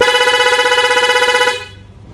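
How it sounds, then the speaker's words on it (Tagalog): Dual horn on a Yamaha Aerox V1 scooter blares in one long, loud, close blast with a fast fluttering pulse, then cuts off abruptly, leaving a faint tail. "Napakalakas ng busina mga sir. Solid na solid tumunog."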